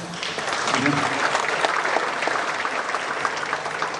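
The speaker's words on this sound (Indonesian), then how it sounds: "Baik, tepuk tangan dulu." A crowd at a talk show event in Jakarta applauds steadily, a dense patter of clapping filling the space, with a voice briefly audible underneath.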